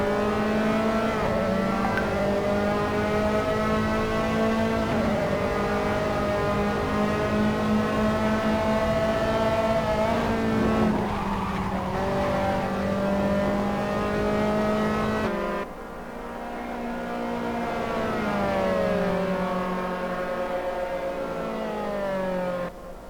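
Open-wheel race cars lap Donington's Redgate corner in an Assetto Corsa simF3 race, engines whining at high pitch with rising and falling revs, a near car's note dropping sharply partway through before climbing again.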